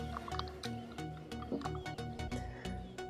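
Liquid is stirred in a small container, giving soft drips, splashes and clinks in an irregular rhythm, faint and close.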